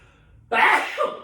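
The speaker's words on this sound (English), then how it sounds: "I'm gonna sneeze" A single sharp, loud sneeze bursts out after a moment of near silence, close by, trailing off quickly.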